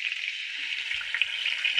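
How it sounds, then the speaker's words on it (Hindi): Garlic and onion mix frying in hot oil in a pan with cumin, giving a steady, bright sizzle with faint stirring, close and continuous, no talking. "अब हम इसमें डाल देंगे ये लहसुन और प्याज मिक्स था, इसको हम डाल देंगे।"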